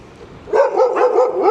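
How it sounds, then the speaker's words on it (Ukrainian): Dog barking outdoors on a city street, a run of repeated yelping barks coming in a steady rhythm at moderate distance, fairly loud after a quiet start. "Щось собак багато."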